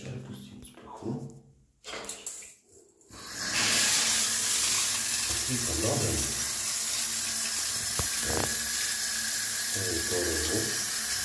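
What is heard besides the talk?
shower running water in shower enclosure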